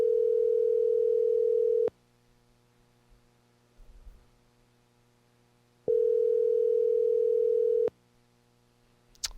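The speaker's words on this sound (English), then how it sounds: "A couple more rings and I'll go to voicemail." Outgoing telephone call going unanswered: two long, steady ringback tones about two seconds each, separated by roughly four seconds of near silence with faint handling noise, clear and close.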